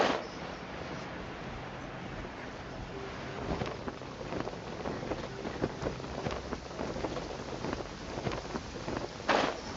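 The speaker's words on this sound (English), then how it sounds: "It's raining again?" Steady rain in the video game Genshin Impact patters continuously on a surface, with scattered louder drops and a brief burst near the end; no voices.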